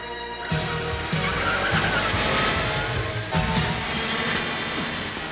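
Cartoon buggies race along in a chase, their engines roaring loudly and continuously as tires squeal and skid through sharp turns, with a fresh burst of skidding midway and no voices.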